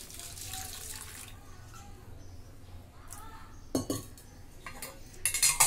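Water is poured over soaking cumin and poppy seeds in a container, a soft steady splash with a few clinks of dishes and faint kitchen clatter, close and fairly quiet.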